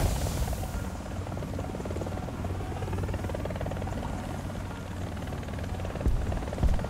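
A helicopter in War Thunder drones steadily with a close, buzzing rotor and engine noise that holds level throughout, with a few sharp thumps near the end.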